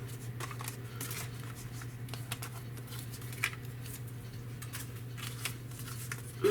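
Scissors snip through paper in quick, soft crisp cuts over a steady low hum, close and fairly quiet, with no talking, while a paper flipbook is trimmed.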